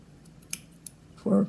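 Scissors snip through fabric threads for Hardanger embroidery with two quick, close clicks, followed by a brief muffled rustle of handled cloth.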